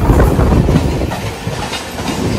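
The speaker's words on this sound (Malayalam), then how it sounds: "ഈ പോകുന്ന സാധനമാണ് ഇ എം യു എന്ന് പറയുന്നത്." An EMU suburban electric train rolls past close by on a southern Indian line, a loud rumbling clickety-clack of wheels over rail joints with no voices.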